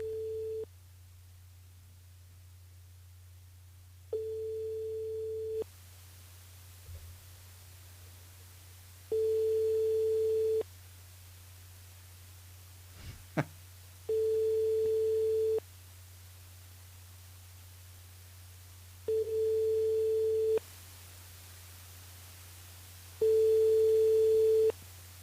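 After a hotel call transfer, a telephone line gives a repeating tone: steady beeps of about one to two seconds, spaced roughly every five seconds over a constant low hum, with no answer.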